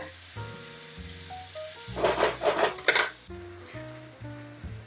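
A ham steak flipped in a hot pan, a brief clatter of utensil against the pan followed by a short burst of sizzling, set against soft background music.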